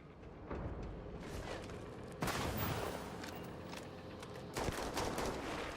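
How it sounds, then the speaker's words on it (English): Sustained gunfire in the Starfield video game, with rapid, continuous shots and bursts of rattling reports that run densely together throughout at a steady, fairly loud level. "I don't know who's shooting."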